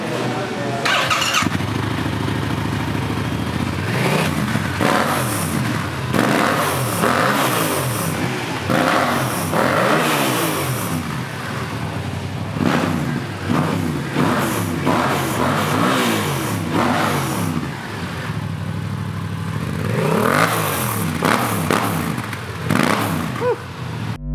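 A Yamaha R7 motorcycle engine revs repeatedly, loud and close, with rising and falling sweeps in quick succession and voices talking in the background.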